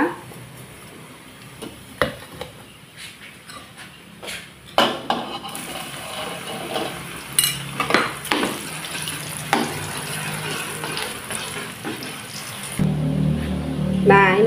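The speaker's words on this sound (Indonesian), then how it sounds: "sekarang kita tiriskan dan kita lanjut menggoreng ya" Sizzling oil crackles steadily as skewered sausages fry, with scattered clinks and scrapes of utensils against a pan, fairly close throughout.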